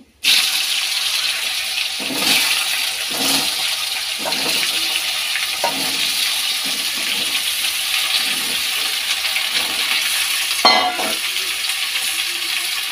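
Papaya and soybean frying in a pan, a steady broadband sizzle running throughout with a few brief scrapes and clinks of stirring, close and fairly loud, no talking.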